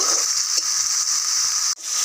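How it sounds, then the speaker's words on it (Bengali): A paste of ground turmeric, chili, coriander and cumin fries in a pan with a steady, bright hiss, loud and close, with a brief break near the end as it is stirred. "হলুদ গুঁড়ো, লঙ্কা গুঁড়ো, ধনে গুঁড়ো আর একটু জিরে গুঁড়ো দিয়ে এটাকে মশলাটাকে ভালো করে কষিয়ে নেব।"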